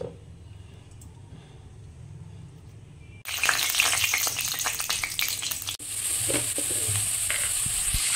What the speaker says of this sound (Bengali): সবজিগুলো তেলের উপর, ঘি আর তেলের উপর দিয়ে দিয়েছি।